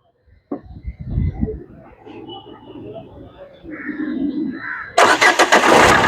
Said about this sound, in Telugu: సింగిల్ సెల్ఫ్లో స్టార్ట్ అవుతుంది బండి అయితే.